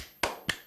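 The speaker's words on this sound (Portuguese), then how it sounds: "Aplauso. Aplauso." Two sharp hand claps, the second about a quarter second after the first, close and fairly quiet in a calm room, with no voices.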